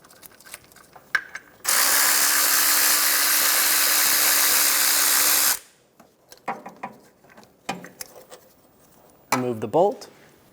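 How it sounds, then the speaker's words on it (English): A ratchet driving a 13mm socket loosens the AC compressor bolts on a 2012-2020 Chevrolet Sonic, giving a long, loud, steady ratcheting buzz up close that is followed by scattered clicks, handling clatter and a brief voice. "Using a 13mm socket, we're going to remove the 3 bolts for the AC compressor"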